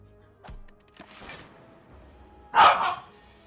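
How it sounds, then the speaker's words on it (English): Several dogs barking in short bursts, first faint and scattered, then one loud close bark with a yelping tail near the end, with no talking over it. "I apologize for the dogs, guys."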